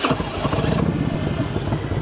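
A 2003 Harley-Davidson Electra Glide Classic motorcycle starts up: a brief starter crank, then the engine catches into a loud, close, rumbling idle.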